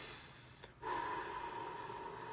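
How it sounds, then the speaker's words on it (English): One person does focused conscious breathing: a short, sharp snort-like inhale, then a soft, steady breath with a faint background hum. It is quiet and close. "I do some focused conscious breathing."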